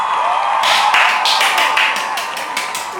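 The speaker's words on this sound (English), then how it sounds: "A round of applause" A short burst of crowd applause with cheering and whoops, loud and continuous across the few seconds.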